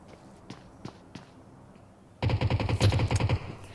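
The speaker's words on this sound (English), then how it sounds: "Firing shots coming from CR." Gunfire in a battle royale video game: a few isolated single shots, then a loud, rapid automatic burst of evenly spaced rounds that carries on to the end.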